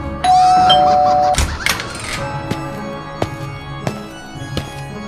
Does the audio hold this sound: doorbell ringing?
yes